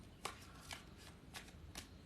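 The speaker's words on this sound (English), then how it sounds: "My shuffling's not so great today." Tarot cards are shuffled in a few quick, soft riffles spaced about half a second apart, close by and quiet.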